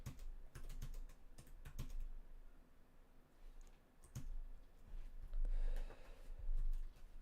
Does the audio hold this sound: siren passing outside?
no